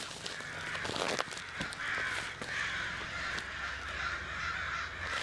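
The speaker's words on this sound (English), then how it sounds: "See, those sound like crows to me." Several crows caw repeatedly from a moderate distance, their harsh calls overlapping against a low background hum.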